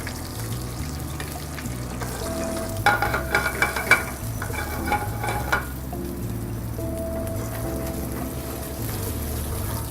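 Food braises in butter in a pan, with a steady sizzle under scraping and clattering of a utensil against the pan, a brief burst of clinks in the middle, and no voices.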